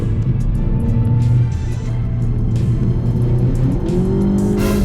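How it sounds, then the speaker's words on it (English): Nissan GT-R race car overtaking on the Nürburgring Nordschleife, heard from inside a rented car: loud steady engine drone from the cabin with a rising engine note as the faster car passes close by. "GTR passing me"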